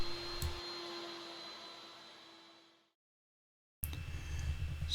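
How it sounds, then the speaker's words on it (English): Vacuum press pump for a woodworking build with a mappa burl veneer, running as a steady whine and hiss with a constant tone that fades out at about three seconds, then cuts back in abruptly after a short silence. "So here I'm setting up my vacuum press system."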